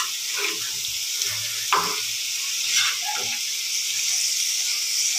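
Fish frying in a pan sizzles and crackles steadily and fairly loudly throughout, with occasional soft knocks and shifts as pieces are moved.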